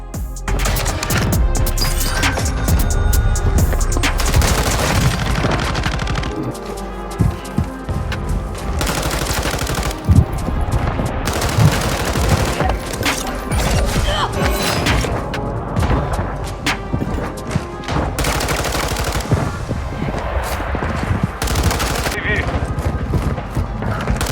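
M13C assault rifle gunfire in the shooter Warzone, loud rapid bursts recurring over the whole stretch with booms and thuds, under a talking player and in-game voices.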